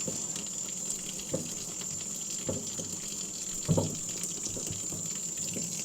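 Soapy water worked over leather boots with a brush or cloth, a steady wet wash with a few soft scrubbing bursts rising above it, close and fairly quiet, with no talking.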